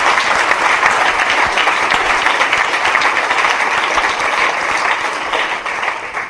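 A church congregation applauding together in a steady, loud wash of clapping that carries on throughout and fades slightly at the end.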